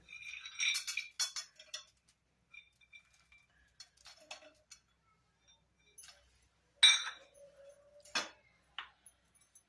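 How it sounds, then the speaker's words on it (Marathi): Peanuts drop into a pan of poha with dry, scattered clicks and light clinks, small bursts separated by quiet gaps, close and with no one talking. "आता याच्यात टाकायचे शेंगदाणे"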